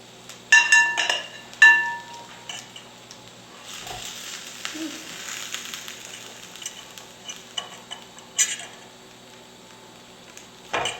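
Roasted spaghetti squash halves are flipped over in a pan, giving a few sharp clinks and scrapes early on, soft handling noises and a light sizzle between, then another metallic knock near the end.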